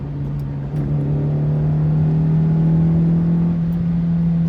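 Slow car in sixth gear, shifted down a few gears, accelerating with a steady engine drone that rises slightly in pitch, loud and close from inside the cabin with no talk.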